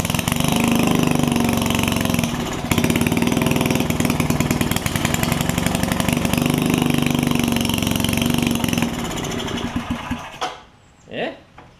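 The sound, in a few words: old Wizard tiller engine running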